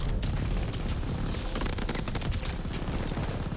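A light machine gun fires in rapid bursts in Call of Duty Vanguard, dense and loud with continuous rattling shots and clattering impacts.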